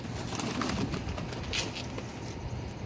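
Pigeons cooing and murmuring nearby in a continuous, busy chorus, with occasional soft flutters.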